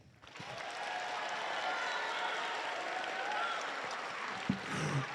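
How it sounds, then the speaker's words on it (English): An audience at a high school FTC robotics tournament claps steadily for the competing teams, a broad wash of distant applause that fills the hall and holds for several seconds. "Let's hear it with a big round of applause for all the teams competing today."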